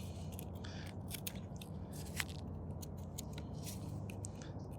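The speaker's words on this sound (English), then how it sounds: "I'm going to prune this back a bit, or cut it back I should say, and do kind of a flesh to stem cut." A dragon fruit seedling's stem is cut back with a blade, giving faint crunchy snips and scrapes over steady background hiss, quiet and close.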